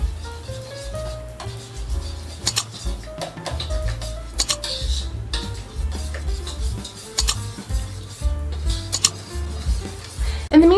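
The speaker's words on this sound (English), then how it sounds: "Next, you're going to give this a good mix." A whisk stirs Yorkshire pudding batter in a bowl, giving busy, steady scraping and clinking against the sides, fairly close, with irregular taps throughout and a faint tone near the end.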